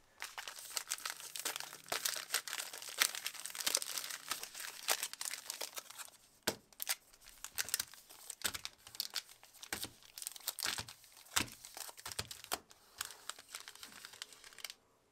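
Pokemon trading cards being shuffled and riffled up close, a run of crisp papery flicks and snaps in irregular bursts with brief pauses between.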